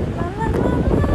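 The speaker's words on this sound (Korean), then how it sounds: "바람이 너무 많이 불어" Strong wind buffeting the microphone in a seaside city on the Gold Coast, Australia, a steady low roar that runs unbroken through the whole moment without any voice.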